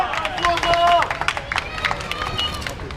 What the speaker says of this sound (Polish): Brawa, brawa proszę Państwa.